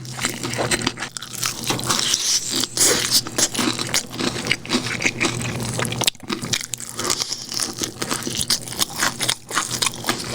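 Loud, close crunching and chewing of crispy fried chicken nuggets from Burger King, repeated bites with crackly, crisp texture throughout.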